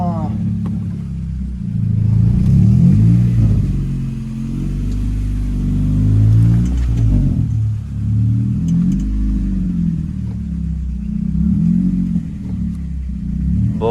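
A KTM RC 390 BS4 motorcycle engine hums and revs while riding, a loud, close, continuous rumble that rises and falls with the throttle.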